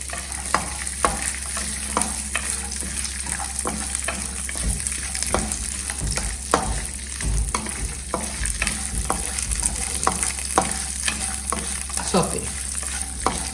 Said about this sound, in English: Peanuts, cashew nuts, and saute it nicely.